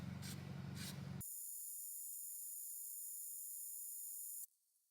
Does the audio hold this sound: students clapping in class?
no